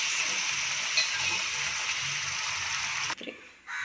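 Boiled chickpeas go into a pan of sizzling masala for kadala curry, a steady loud frying hiss that cuts off abruptly near the end with a brief clatter and quieter sizzle.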